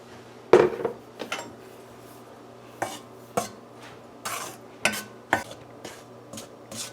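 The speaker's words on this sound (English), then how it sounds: "So this is about 5 minutes into parching the flour here." Flour is parched and stirred in a hot karahi, with a spoon scraping and knocking against the metal pan in irregular bursts and quiet gaps between strokes.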